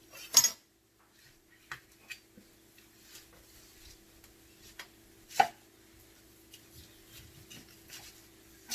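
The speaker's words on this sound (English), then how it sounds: "now we are going to cut our roast" A knife cutting through a partly thawed roast on a board, a few sharp thuds and scattered scraping taps over quiet, close, no talking.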